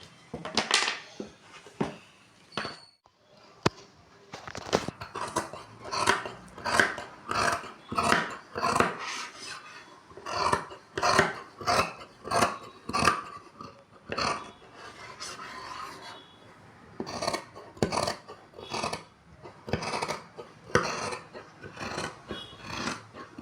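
Fabric for a halter neck blouse being cut along a pattern with scissors, a long run of crisp, rhythmic rasping snips close by with brief pauses between bursts, no voices.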